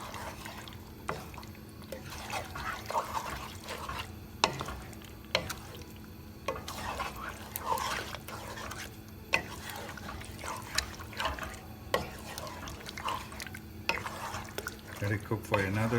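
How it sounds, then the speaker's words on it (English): Chicken curry with bone-in pieces being stirred in a pot over high heat after salt and curry seasoning go in, giving repeated soft wet scraping and liquid sloshing under a steady low hum, moderately close. "Again, stir it."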